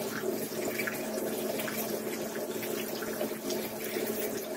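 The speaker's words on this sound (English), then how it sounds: "then I'm going to now add the liquid of the stock" Heated stock poured into a pan of seared, crispy braised chicken, a steady continuous liquid rush and splash running unbroken and fairly loud for several seconds with no talking.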